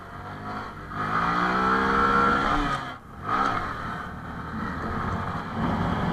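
Honda MSX SF minibike engine held at high revs in second gear during a wheelie, a loud, strained motor sustained near the microphone, briefly dropping off before climbing again.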